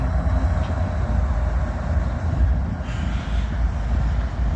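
A freight train pulled by an EG44AH-numbered locomotive rolls past up close, a steady loud rumble of wheels and engine with a continuous rail hiss.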